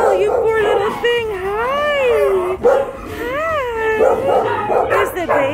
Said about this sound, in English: Oh my goodness, baby puppies.